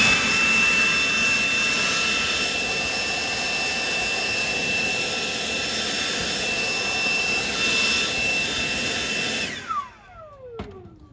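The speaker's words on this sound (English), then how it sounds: "Let me get the blower. Clean this all off first." Leaf blower clearing debris off a central AC condenser, a loud continuous roaring whoosh held close for about nine seconds before it cuts off and winds down.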